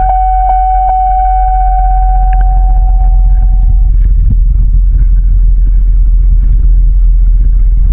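A truck engine idles loudly and close while it pulls a log with a rope. A steady low drone runs throughout, with a tonal whine in the first few seconds that fades out, and no voices.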